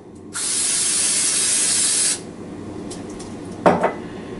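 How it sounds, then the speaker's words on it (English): Nonstick cooking spray coats a baking pan in one sustained, close, loud hiss of about two seconds, followed by a couple of light metallic clinks of bakeware. "we're going to coat this one in nonstick spray as well"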